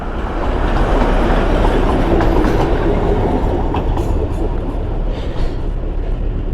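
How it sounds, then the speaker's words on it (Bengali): Darjeeling toy train passing near Kurseong on its way to Siliguri, a loud continuous rumble and clatter of wheels on rails that stays close and dense throughout. "তো শিলিগুড়ির উদ্দেশ্যে চলেছে টয় ট্রেন।"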